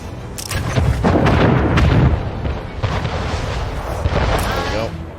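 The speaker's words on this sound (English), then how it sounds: "Shoot sideways, sweetie, so you can shoot all those guns" Broadside cannon fire from navy warships in Anno 1800 rumbles as a heavy, overlapping barrage of booms and bursts, loud and close, with a voice talking over it.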